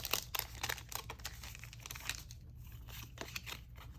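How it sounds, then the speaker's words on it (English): Scissors snipping and crinkling the foil wrapper of a Pokémon card booster pack, several quick crisp cuts and rustles close up, fairly quiet with no talk. "Being careful not to cut the top of these cards."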